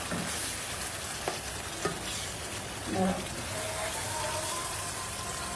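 Fish heads being stirred through spices in a hot pan: a steady sizzle with a few soft scrapes and knocks of the spoon, close and moderately loud, with no talking.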